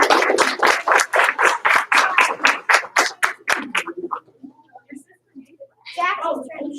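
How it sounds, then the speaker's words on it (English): A group of children in a karate class claps together in a steady, loud rhythm of about a dozen sharp claps, which then fade into scattered taps and low murmurs before a brief burst of chatter. "Give him one clap. Two claps."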